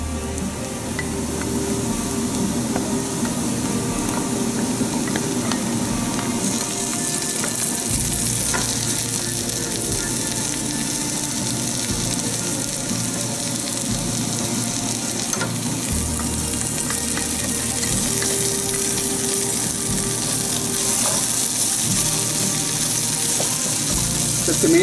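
Onions and garlic frying in a pan for Ethiopian misir wat give a steady, close sizzle with occasional stirring scrapes, continuous and fairly loud throughout, with no talking.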